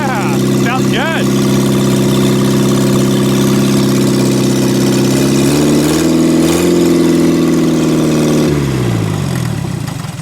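A 1963 Mini Cooper engine, just restarted after sitting in a scrapyard, idles loud and steady close by with an even low rumble, its pitch dipping briefly near the end. Voices talk over it.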